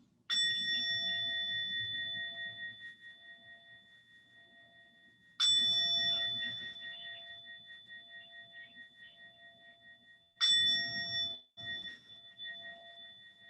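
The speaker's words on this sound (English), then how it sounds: "let's begin by listening to the sound of the bell" A meditation bell is struck three times, a few seconds apart. Each bright, ringing tone decays slowly before the next strike, in an otherwise quiet room.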